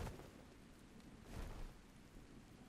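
Gentle rain in the survival game ARK Survival Ascended falls as a soft, faint, continuous hiss, with a couple of slightly louder swells.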